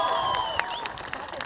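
An audience claps briefly at a Latvian freestyle rap battle event, with a few sharp hand claps and faint crowd noise under a sustained tonal sound. Brief and fairly loud, with no clear speech.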